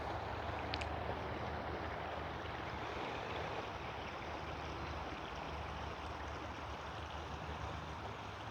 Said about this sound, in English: the waterfalls that are sort of falling over there